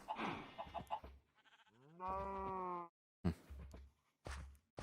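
A video-game sheep gives a long wavering bleat, clear and fairly close, amid scattered soft thumps and a brief murmur of voice.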